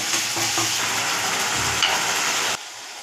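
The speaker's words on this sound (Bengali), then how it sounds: "এই মশলাটা অনেকক্ষণ ভাজতে হবে, পেঁয়াজ বাটা রয়েছে" Onion paste masala sizzles loudly in hot oil while it is stirred in the pan, a dense, steady frying hiss that cuts off abruptly near the end.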